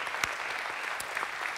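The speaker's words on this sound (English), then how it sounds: "Can you give them a round of applause?" Audience applause for a deaf team and interpreters at a church multicultural forum, a short steady burst of clapping from a crowd with no talking.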